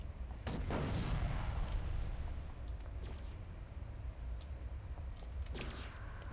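Gunfire aimed at the player in the online superhero game City of Heroes, with a loud dense burst of shots early, then a low rumbling wash and a few scattered later cracks.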